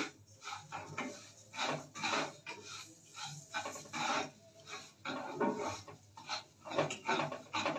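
Rice grains being stirred and fried in ghee in a hot wok, heard as repeated scraping, rasping strokes of a spatula against the pan in an uneven rhythm, close and moderately loud with no talking.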